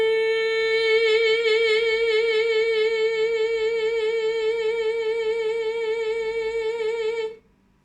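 One sustained sung note held steadily for about seven seconds, shaped smoothly with the unfold technique, with a slight wavering vibrato before it cuts off cleanly, close and fairly loud with no talking.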